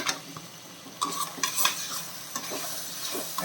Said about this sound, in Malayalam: അടിയോട് ചേർത്ത് ഇളക്കി കൊടുക്കണം കേട്ടോ